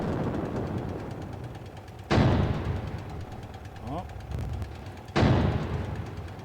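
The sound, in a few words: tank fire in the video game Sprocket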